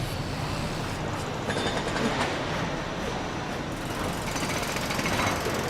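Jackhammers pounding at a farm construction site in Farming Simulator 25, a dense, continuous rattling clatter with no talking over it.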